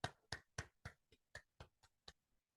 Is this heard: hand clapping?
yes